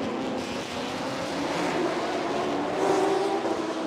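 Race cars at speed on the Bangsaen street circuit in Chonburi, Thailand, during a Thailand Super Series round, a steady loud engine roar with rising pitch as cars blast down the straight, no talk.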